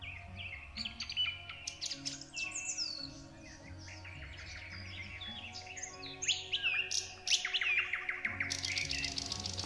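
Several birds sing and chirp continuously, with bright overlapping trills and tweets over a steady low background hum, fairly close and lively throughout.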